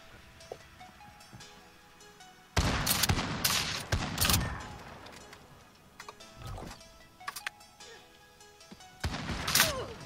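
A flashbang grenade goes off in a first-person video game as a sudden loud broadband blast. Sharp cracks and gunfire-like bursts follow, then a bright burst near the end, over quiet ticking game ambience.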